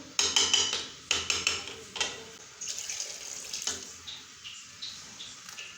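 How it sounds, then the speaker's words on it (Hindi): Water splashes and trickles into a metal pot of cooking rice for fish pulao in several bursts, with clinks of the vessel, close by and fairly loud, no talking. "मैं अब इसके अंदर थोड़ा सा पानी और शामिल कर रही हूँ"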